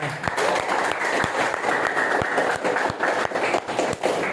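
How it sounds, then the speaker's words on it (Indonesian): A classroom of students claps together in a brisk, steady burst of applause, with a few sharper individual claps standing out. "Bagus, tepuk tangannya."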